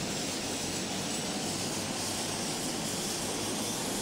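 A Pucará aircraft engine runs during a cold start, producing a steady, even, broadband turbine roar with no change in level and no voices.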